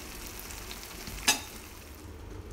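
Shrimp balado cooks in a pan while its liquid reduces, giving a quiet, steady low sizzle broken by one brief sharp clink partway through; no one speaks.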